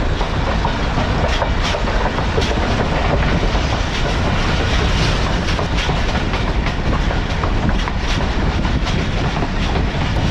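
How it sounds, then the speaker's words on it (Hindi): A passenger train in Sindh, Pakistan, rumbles steadily along the rails past a skipped station, with loud continuous noise and a rhythmic clickety-clack of wheels over track joints. "तो एक गोसर जी रेलवे स्टेशन को स्किप कर रही है ट्रेन"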